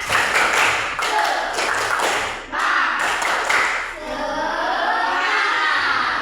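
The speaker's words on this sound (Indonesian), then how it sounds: "Tepuk semangat." Classroom group spirit clap (tepuk semangat) at a teacher's session: a group claps in several quick bursts, then voices carry on.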